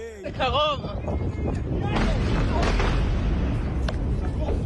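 Booms and rumbling blasts from Iranian missile strikes over Israel, including Tel Aviv, recorded on amateur footage: loud, continuous broadband roar with sharp cracks, and voices shouting at the start.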